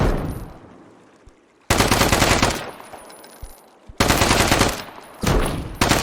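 Bursts of automatic gunfire in the Deadside survival shooter: three loud, dense volleys, each stopping abruptly, separated by quieter stretches with fading echo and no talk.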